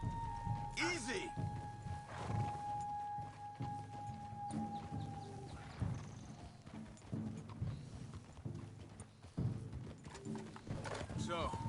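Horse hooves clip-clop steadily in Red Dead Redemption II while a rider handles an early mount, with a brief whinny near the start, under steady music and someone talking.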